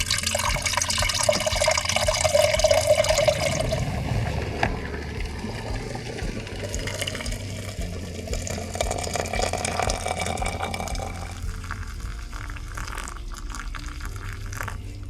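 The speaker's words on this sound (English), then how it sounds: "get a pan on there that I haven't used for food, boil up some water, and then try and haphazardly get it into the cup" Boiled water from a pan being poured into a cup while van camping, a steady liquid trickle and splashing that runs close by for several seconds and then settles into a softer pour and drip.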